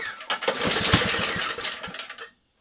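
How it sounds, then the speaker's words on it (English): Old Toro snowblower engine on choke after priming, cranking with rapid sputtering pops that briefly catch into a rough roar before cutting out abruptly, loud and close. "put it on choke. I don't know, 3 primes? I probably have to adjust the carb, but see if she fires up."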